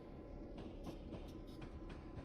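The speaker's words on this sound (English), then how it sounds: "that clickety-clack just sounds super good" Train wheels clickety-clack over rail joints in Train Simulator 2021 on Sherman Hill as a train crawls through a crossover, a steady loud rumble punctuated by repeated rhythmic clacks.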